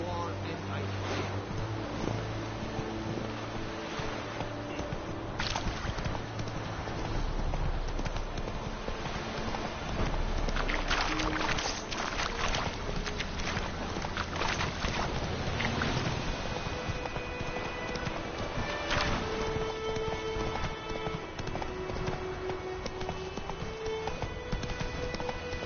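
Roach the horse galloping in The Witcher 3, with a steady rhythmic clip-clop of hooves running continuously under game music, wind and occasional voices.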